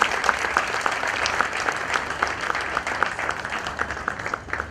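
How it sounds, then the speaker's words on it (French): An audience at a scholarship award ceremony applauds after a speech, with dense, sustained clapping from a sizeable crowd that slowly thins toward the end. "un tonnerre d'applaudissements pour ce discours"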